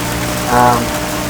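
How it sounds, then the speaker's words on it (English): Steady rain hiss in the F1 Challenge racing game during a 1959-season race in Portugal, a dense, constant wash with a faint engine drone underneath and a slight swell partway through. "and it started to rain"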